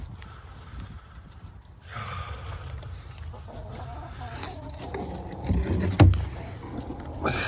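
Backyard hens cluck softly and peck at a boot, with light taps and murmured fowl sounds close by against a quiet outdoor background.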